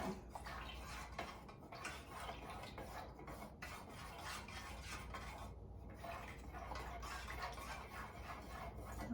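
Fragrance oil being stirred into coconut wax blend in a container, a continuous close scraping and swishing stir with light clinks, heard alone without voices.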